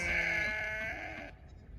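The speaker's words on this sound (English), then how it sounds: "There go the goaty goats." Goats bleat out in a pasture on a farm where sheep are rotationally grazed. One sustained, wavering bleat carries over faint outdoor background and then cuts off.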